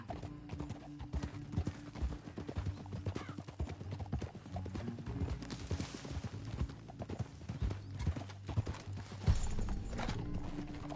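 Steady, rapid clip-clop of horse hooves moving at pace in Red Dead Redemption 2, close up, with a brief whinny and a low rumbling background throughout.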